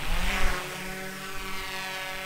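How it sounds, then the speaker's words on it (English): A DJI Mavic mapping drone flies over a farm field, its steady propeller whir close and fairly loud, with rising and falling harmonic tones as it moves. "now the drone is going to return itself to our takeoff point"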